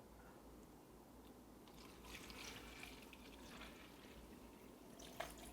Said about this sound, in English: You just add water?